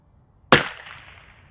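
A single loud, sharp crack from an Anschutz 1827 biathlon rifle fired at a steel plate, with a quick, bright tail fading over about a second and no other sound around it.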